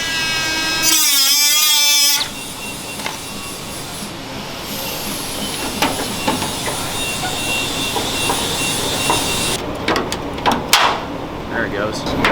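A Milwaukee power tool whirs in a short, loud burst in a garage where a Foxbody car is being stripped, followed by people talking over shop clatter and a few scattered metallic knocks.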